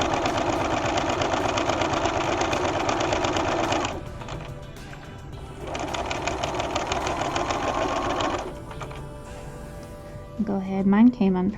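A sewing machine stitching a fabric pocket bag runs in a steady, rapid mechanical whir for several seconds, pauses for a pivot, then stitches again, with a voice speaking at the end.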